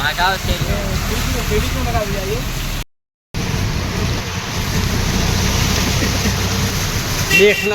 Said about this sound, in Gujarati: પડી રહ્યો છે વરસાદ દિંડોલીમાં